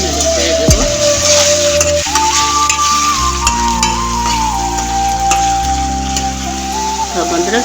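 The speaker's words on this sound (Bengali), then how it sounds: "পেঁয়াজ বাটাটা দিয়ে একটু নেড়ে ছেড়ে দেবো" Onion paste sizzles in a pan while being stirred, ahead of adding goat meat for a bhuna curry; steady loud frying hiss under a sustained tonal hum, with occasional scraping touches.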